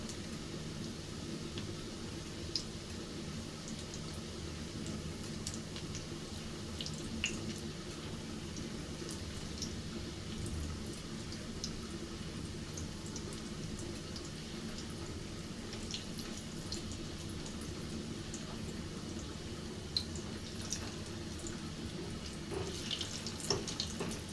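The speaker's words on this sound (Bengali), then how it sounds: "গোল্ডেন কালার করে ভেজে নেব" Shami kebab patties fry in hot oil over a medium flame, giving a steady, continuous low crackle and hiss that lasts throughout, with occasional small pops and no talking.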